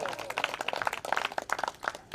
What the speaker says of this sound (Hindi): ताली बजाओ जोरदार एक बार